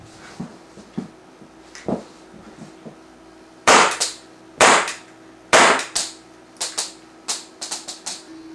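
Shots from a KWC Sig Sauer SP2022 airsoft pistol: sharp, loud cracking pops, a few softer ones early and then a series of about eight strong shots at uneven intervals, heard alone.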